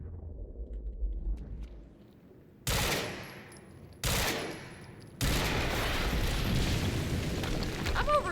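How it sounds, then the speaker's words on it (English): Explosions and gunfire near a harvesting perimeter in the Quantum Break game, with a low rumble giving way to sudden loud bursts of blasting and sustained roaring noise. "HQ, we just heard an explosion near the harvesting perimeter"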